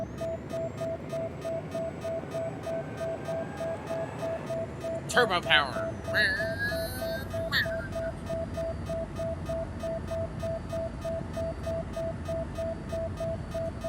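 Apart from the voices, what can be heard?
suit battery warning beeping in video game Occupy Mars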